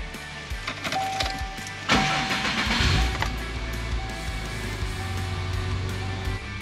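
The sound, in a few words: Subaru Impreza 2.5 RS engine first start after manual swap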